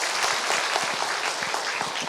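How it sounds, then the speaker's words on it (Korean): Audience applause at a church Bible lecture gathering in Korea, a dense, steady clapping from a room of people that fills the whole moment without any talk over it. "자, 박수 한번 쳐주세요."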